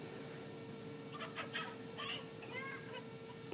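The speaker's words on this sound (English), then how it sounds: "Why do I hear chickens?" Faint chicken clucks in the city-building video game Megapolis come in a few short bursts over a steady background hum, soft and somewhat distant.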